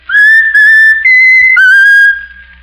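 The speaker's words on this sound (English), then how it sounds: "whistle your favorite tune" Raffles, a talking mynah bird, whistles a short tune up close: three clear, loud sustained notes at slightly different pitches, with the last note trailing off.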